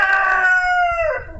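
Morgan, a big, confident rooster, crows once up close, a loud, clear cock-a-doodle-doo that holds and then falls away at the end.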